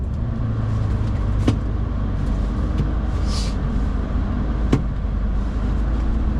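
A 1998 Porsche 911 Carrera S of the 993 generation is driven, its engine and road noise giving a loud steady cabin rumble with a couple of brief knocks, no talking.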